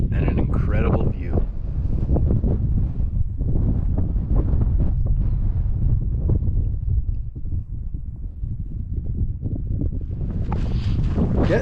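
Gusty wind buffeting the microphone on a high mountain trail in Colorado, loud low rumbling bursts rising and easing over several seconds, close and rough, with a voice briefly heard.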